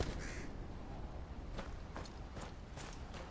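A crow caws repeatedly in the fantasy video game GoT: Kingsroad, with several sharp calls spaced about half a second apart over a steady ambient game background.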